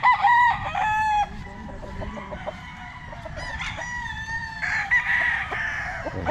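Roosters at a Philippine gamecock farm crow loudly and repeatedly, with clucking and other fowl calls layered underneath, several birds close by against a steady outdoor background.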